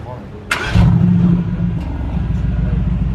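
A Mercedes-AMG GT R Roadster supercar engine starting: a short starter burst, then the engine catches with a loud, deep surge and settles into a steady, close low rumble at idle.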